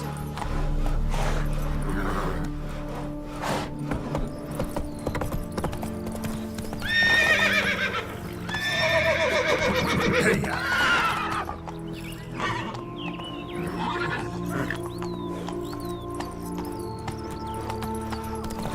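A horse gallops in The Witcher 3: Wild Hunt, its hooves clip-clopping in a steady rhythm over game music, with two loud whinnying neighs in the middle.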